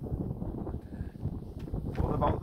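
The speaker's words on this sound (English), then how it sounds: "tell it's windy, but just breezy" Steady breezy wind buffets outdoors on the Great Glen Way hiking trail, a soft rushing whoosh that swells near the end.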